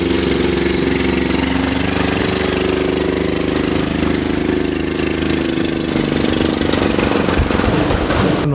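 A homemade car built in an industrial workshop district, powered by a 100cc engine, runs with a loud, close, steady chugging drone. The rhythm roughens and shifts near the end.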